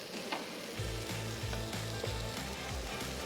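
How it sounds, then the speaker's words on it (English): Pork belly sears in a hot pan, a steady close sizzle and crackle of rendering fat with faint stirring scrapes and no voices. "After you have some of the fat rendering off of the pork belly"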